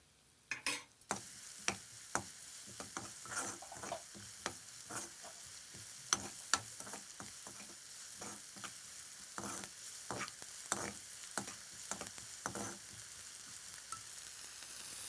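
Onions frying in a pan for a spicy pepper soup, a quiet steady sizzle broken by regular scraping knocks of a spoon stirring, with no talking over it.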